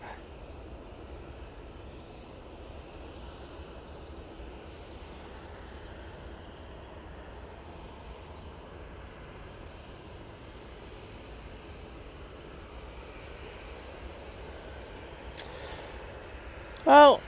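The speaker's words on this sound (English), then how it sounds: "EasyJet A321 Neo now departing." An EasyJet Airbus A321neo departs Manchester Airport, heard as a steady distant engine roar that holds evenly throughout, with a brief louder burst near the end.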